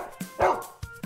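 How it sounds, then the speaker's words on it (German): A dog barks in short yipping bursts, four or five sharp close barks in quick uneven rhythm with no talk over them. "Das ist ein Hund."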